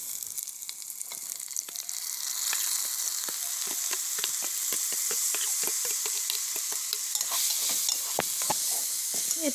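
Pulao rice frying with browned onions in a pan gives a steady, close hiss of sizzling oil, broken by frequent sharp ticks and scrapes of stirring throughout, with no one talking.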